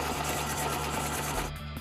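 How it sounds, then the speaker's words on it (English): Stand mixer beating cookie dough on low speed, a steady, close motor whir with a fast, even rhythmic pulse that eases off slightly near the end. "And then we just mix it on a low speed until it comes together."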